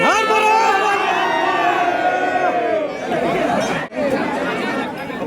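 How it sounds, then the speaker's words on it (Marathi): A dense crowd at the Mahashivratri yatra in Shirpur fills the air with loud, steady chatter and babble, many voices overlapping close by with occasional shouts. "गर्दी तर गर्दी एवढी होती का श्वास घ्यायला जागा नव्हती"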